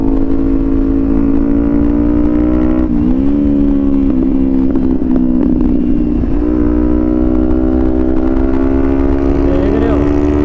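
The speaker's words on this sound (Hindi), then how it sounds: "भाई बुलेट वाले रेस लगा रहे हैं।" Several Royal Enfield Bullet motorcycles race close by, their engines holding a loud, steady thumping drone with a brief dip and rise in pitch partway through.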